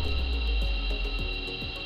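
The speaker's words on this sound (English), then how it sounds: "Our test bar is now chattering quite seriously." A CNC lathe cutting a test bar chatters seriously: a steady mechanical whine with strong tonal hum, plus a faint rhythmic ticking that repeats about four times a second throughout.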